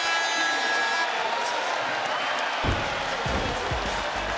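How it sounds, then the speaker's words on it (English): Oakland Zoo student section roaring at a Pitt Panthers basketball game against West Virginia, a steady, loud crowd wash with cheers and whoops, with thumping stomps or claps joining in the second half. "Listen to the Oakland Zoo crowd loving 6 made threes in the first half for the Pitt Panthers"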